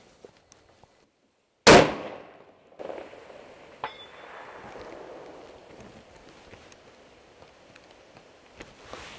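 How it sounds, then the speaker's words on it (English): A single sharp, loud hunting rifle shot is fired at a target 550 yards away. A faint metallic ping from the hit follows about two seconds later, then quiet outdoor ambience. "That's 550 yards, first shot."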